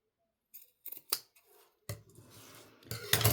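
Scissors snip through craft material for a miniature bakery shop model, a few sharp cuts and rustles close by, growing busier toward the end.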